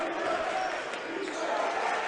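A college basketball crowd in the Rowan University vs Catholic University game roars steadily and loudly in the arena after an early three-pointer, with a commentator's voice running over the noise.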